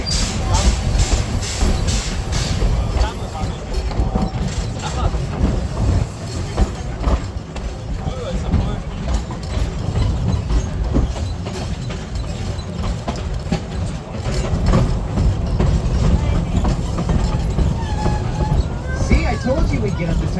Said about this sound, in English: experiencing the Redwood Forest Narrow Gauge Steam Train